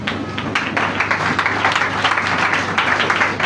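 A church congregation applauds, with steady scattered clapping at moderate loudness and some faint voices underneath.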